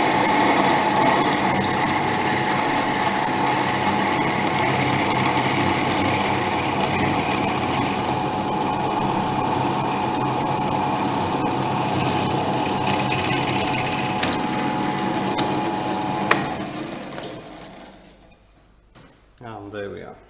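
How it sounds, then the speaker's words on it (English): An electric drill bores through metal with a drop of cutting lubricant, a steady, close whining hum with a high squeal that runs for most of the time, then winds down and stops near the end. "Now I'm going to start the drill again."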